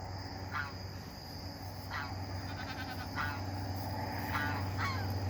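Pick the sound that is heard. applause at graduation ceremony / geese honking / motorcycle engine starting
geese honking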